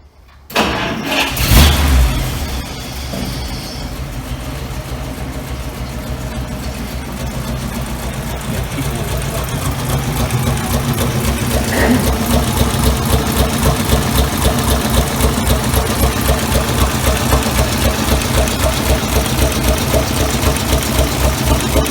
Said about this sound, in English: Now I'm going to start the engine, let it run for a little bit to warm back up